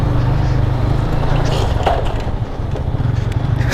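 A motorcycle rides along a dark road at night on a touring trip toward Semarang, its engine making a steady low drone blended with wind rush, loud and constant throughout.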